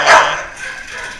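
A dog at an animal shelter lets out a single sharp bark close by, followed by a short fading echo in the kennel room.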